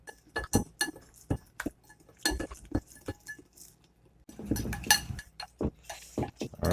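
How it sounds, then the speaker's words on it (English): Chicken wing batter with a teaspoon of sriracha being stirred in a bowl for Chinese-style takeout wings, a run of sharp clinks and taps of utensil against glass, irregular and close, with quieter scraping between strikes. "I'm gonna go ahead and get this mixed on up"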